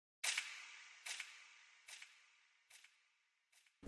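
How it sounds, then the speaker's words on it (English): A gunshot sound effect used in a beat, made in FL Studio, fires five times in a row. Each shot is a sharp crack with a decaying delayed tail, and no one talks over them. "a gunshot sound, because every single beat has a fucking gunshot sound in it"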